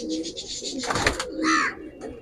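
A racing pigeon coos close by in a loft, a couple of soft throaty calls with a brief rustle between them.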